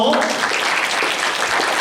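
A church youth congregation claps to welcome a new member; a brief burst of close, dense applause from many hands, fairly loud and continuous, with a voice audible at the very start.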